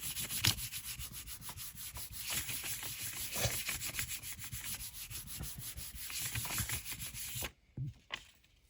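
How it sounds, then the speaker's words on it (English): Paper scraps for a junk journal being rubbed over by hand make a steady close scratchy rasp in rhythmic strokes, stopping abruptly near the end with a couple of faint touches. "Just rub it over."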